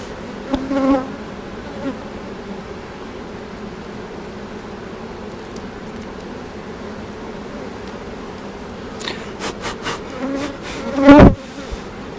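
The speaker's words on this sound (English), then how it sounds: "Try and get the little worker bees out of there." Continuous buzzing of a honeybee swarm being hived in Maple Hill, North Carolina hums throughout, with individual bees droning close by at a few moments, louder near the start and end.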